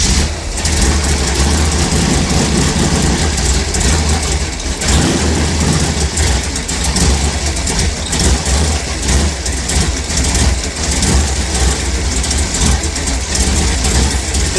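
Engine of a 1955 Chevy with little muffling, tuned for drag racing, running loud and steady close by, a rough rumbling idle with throttle blips and revving swells throughout.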